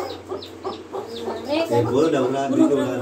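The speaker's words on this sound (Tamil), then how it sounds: "இங்க பாருங்க, இதுதான் வந்து பொட்டைக்கோழி, எங்க பொட்டைக்கோழி." A hen clucks in short repeated bursts, close by, followed by a longer run of softer murmuring clucks and some background chatter.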